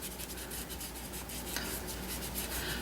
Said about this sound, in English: we're just gonna rub that right into the cardstock